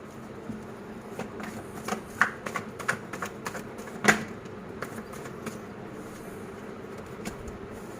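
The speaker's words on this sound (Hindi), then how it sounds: "तो अब लास्ट बार हम एक बार और शफल कर रहे हैं कार्ड को" A deck of tarot cards is shuffled by hand, a close soft run of rapid papery flicks and riffles with a few sharper snaps at the start, fading to quieter rustling toward the end.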